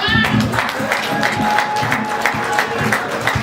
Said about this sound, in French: C'est très timide au niveau des ovations.